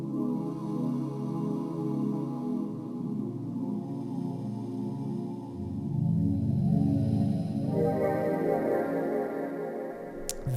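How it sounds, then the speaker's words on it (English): A looped synth pad playing from a sampler for dystopian ambient music, a sustained layered drone that shifts and thickens midway, steady and moderately loud with no talk. "I have this pad and a sampler down here that's looped up."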